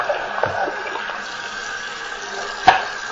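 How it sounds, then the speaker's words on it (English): Running water rinses a plastic hamster ball in a sink, a steady faint splashing hiss with a couple of soft knocks and one sharp clunk of the ball near the end. "Rinse that off and rinse the outside of the ball off."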